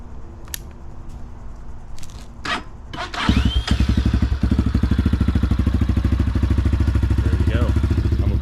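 Motorcycle started with a key, a few clicks and clunks before the engine catches, then settles into a loud, close, steady putting idle.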